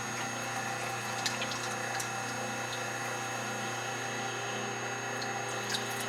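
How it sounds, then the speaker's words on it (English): A pump pushes liquid weakly through a fully submerged hose, a steady low mechanical hum with faint watery gurgling and occasional small clicks, even and unchanging throughout. "It's actually pumping, but it's not pumping at near the rate it should be."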